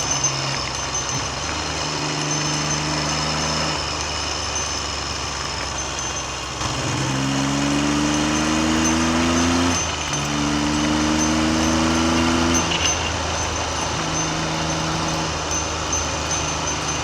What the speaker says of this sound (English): I've got 3 lusty Triumph cylinders shoving me along.